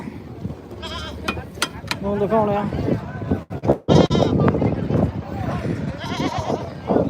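A billy goat bleats repeatedly in short wavering cries amid a noisy crowd at a goat market, with people talking over and between the calls.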